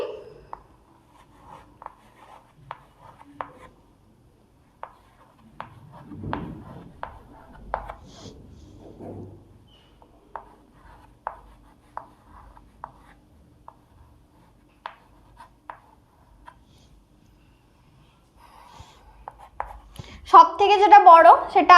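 Pen or pencil scratching on paper as a teacher works through a Class 4 math lesson; brief, soft strokes between stretches of her talking, with a louder scratchy burst near the end.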